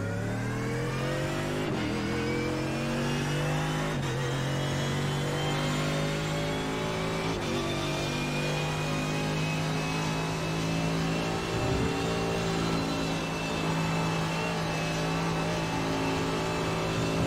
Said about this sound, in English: that Mercedes really has a nice sound. Sounds so powerful.